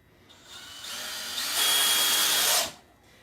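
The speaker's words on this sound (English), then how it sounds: "Get your handy dandy drill gun out because every cake decorator needs one" A handheld power drill gun drives into a cake board during cake decorating, making one close whirring burst that rises in pitch and loudness, holds for about a second, then winds down.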